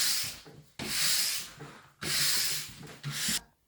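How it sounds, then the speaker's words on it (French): Brass brush scrubbing a ski base during end-of-season maintenance, four loud, close, rasping strokes in a steady back-and-forth rhythm with brief pauses between them. "Pour ça, on va commencer avec une brosse de laiton. Et on va brosser notre base"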